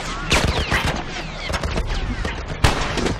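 A military turret machine gun fires loud, close, rapid bursts with sharp repeated cracks and a booming low end. The shots overlap with tense shouting voices and a heavy impact near the end.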